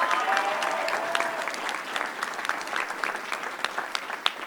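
Audience applauding and cheering for a singing competition semifinalist introduced at a school district board meeting, steady dense clapping with scattered whoops across the whole stretch.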